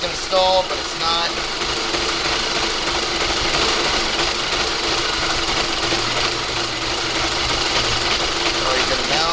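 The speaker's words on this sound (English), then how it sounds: "The engine will sound like it's going to stall," A 2006 VW GTI 2.0T FSI idles close by during a Seafoam treatment, its running uneven and rough, as if about to stall, with a constant mechanical drone throughout.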